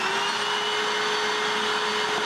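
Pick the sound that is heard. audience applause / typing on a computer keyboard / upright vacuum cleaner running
upright vacuum cleaner running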